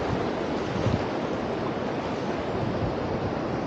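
Strong sea current and surf around a swimmer off the coast of Japan, a dense, continuous rushing wash of water that stays loud and steady throughout.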